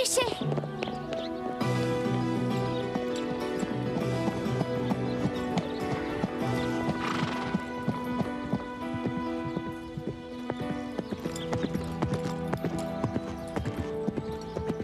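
Horse hooves clip-clop steadily with a whinny, set at an animated riding-school jumping lesson, blended under continuous music and some voices.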